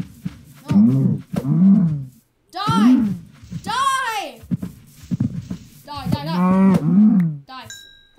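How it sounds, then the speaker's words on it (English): Cows in the Minecraft video game give several loud, close, drawn-out moos one after another, mixed with a voice talking and game effects. "Mr. Cow, I need to kill you."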